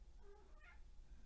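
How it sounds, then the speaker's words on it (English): Pet cat meowing for attention indoors, a single short, faint meow rising and falling in pitch against a quiet background hum. "My kitty wants some attention."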